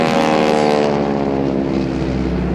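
A North American Harvard propeller trainer plane flies at an air show, its engine a loud, continuous, rumbling drone that slowly shifts pitch as it passes close by.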